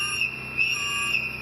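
A shrill whistle blown as a community alert against ICE agents, a steady high piercing tone held for over a second with slight pitch wavering, loud and alone without talk.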